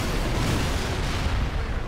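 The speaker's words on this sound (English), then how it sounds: "I hear a lot of explosions." Rapid explosions from the Halo: Reach video game fill the scene as a loud, dense, continuous rumble with no clear gaps between blasts and no voices.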